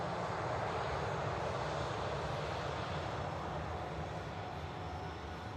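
A TUI Boeing Dreamliner rolls down the runway on takeoff at Manchester Airport, its jet engines giving a steady, broad, loud roar that holds evenly throughout with no one speaking.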